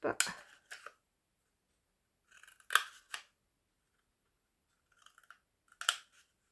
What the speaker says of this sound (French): je vais couper chaque pli jusqu'à cette marque de 2 cm